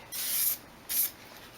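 Aerosol can spraying metal flake base coat onto a guitar body: two bursts of bright hissing spray, the first longer than the second, close up with a quiet pause between them.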